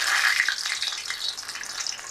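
Cheesesteak egg rolls frying in hot oil in a skillet, a close, bright hissing sizzle that is strongest at the start and then settles into a steady crackle.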